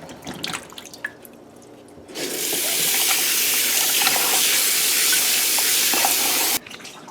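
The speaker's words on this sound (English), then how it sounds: "Next we're going to wash our provisions." Running water pours steadily from a tap over peeled, cut provisions for Guyanese metemgee, a loud even hiss lasting about four seconds after faint drips and kitchen clatter, then cutting off abruptly.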